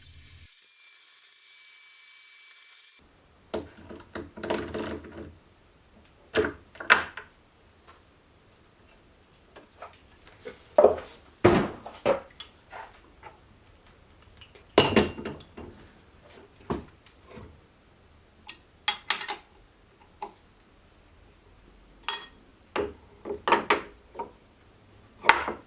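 A milling machine vise is removed and a homemade two-piece vise is fitted in a workshop: sparse metallic clanks, knocks and scrapes of heavy steel parts being handled, close and irregular, separated by quiet pauses.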